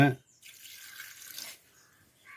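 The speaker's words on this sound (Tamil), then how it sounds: "கொஞ்சம் தண்ணி ஊற்றிங்க, ஒரு 1/2 டம்ளர் தண்ணி ஊற்றிங்க" About half a tumbler of water is poured into a grinder jar of coconut masala for egg curry, making a soft, splashy trickle lasting about a second between brief bits of speech.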